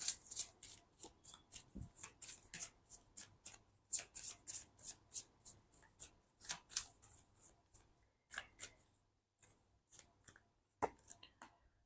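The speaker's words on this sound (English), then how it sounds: "Let me pull one final card for you guys from the Romance Angels" Oracle cards from a Romance Angels deck are shuffled and drawn by hand, giving a long run of quick, crisp riffling slaps and flicks, close and fairly loud, with brief pauses near the end.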